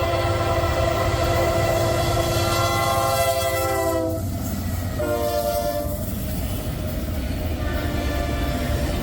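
A Norfolk Southern freight train passes near Amherst, Vermilion or Ceylon, Ohio, blowing a loud, sustained multi-tone horn in several long blasts over the rumble of rolling cars.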